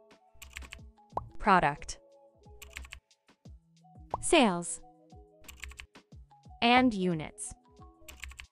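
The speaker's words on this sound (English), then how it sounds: "type in the name you want to use" Someone types on a computer keyboard in Excel, with bursts of quick, close key clicks between three short spoken phrases.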